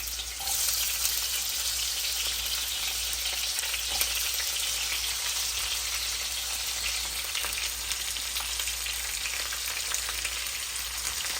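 Onions and mustard seeds frying in a hot pan, a loud continuous dense sizzle that holds steady from start to end with no talking over it.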